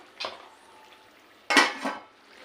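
A spoon scrapes and clatters in a pot of chicken curry just after chopped tomato pieces go in, two bursts of stirring separated by a quiet pause, close and moderately loud with no talk.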